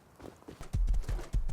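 An armored horse in the video game Rust trots along, its hooves clip-clopping in a steady, close rhythm of heavy, distinct thuds.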